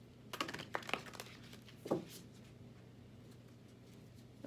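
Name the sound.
shuffling large tarot cards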